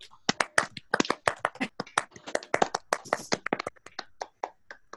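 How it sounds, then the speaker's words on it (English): Students in a university music class clapping into their microphones over a video call, a stream of sharp, separate claps and taps from different people, loud and uneven, overlapping in bursts. "Everyone give a round of applause to the TAs while holding down spacebar"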